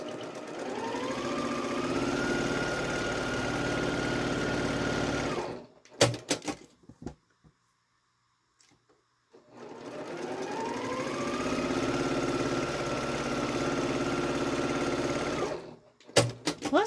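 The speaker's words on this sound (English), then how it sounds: "I'm going to sew on both sides of that line a quarter inch away" Sewing machine stitching quilt pieces along a line, a steady whirring run of about five seconds, a brief clatter and pause, then a second equally long run ending in clicks.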